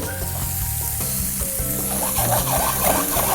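Glazed pork chops sizzle loudly and steadily in a hot pan, a close, continuous frying hiss with faint scraping and no talking.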